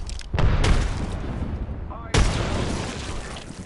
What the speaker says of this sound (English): Throw an arc star. Throw an arc star. Frag out.